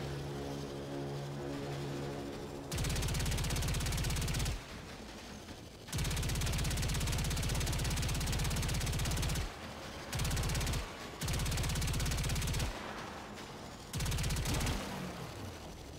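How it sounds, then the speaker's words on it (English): Incoming fire from a Fomorian warship in the video game Warframe comes in several loud, sustained bursts of heavy gunfire separated by short gaps, after an opening of low droning tones. "Incoming fire from the Fomorian."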